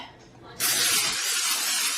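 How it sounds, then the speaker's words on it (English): A steady spray hisses onto a bowl being greased before bread dough goes in to rise. It starts abruptly after a quieter moment and holds a loud, even rush to the end. "So I have this bowl that I did with the last one, and I'm gonna spray it."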